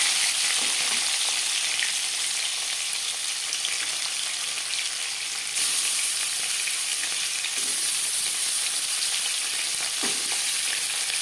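Marinated shol fish frying in hot mustard oil, a dense, continuous loud sizzle and crackle with a few brief stirring scrapes and no speech.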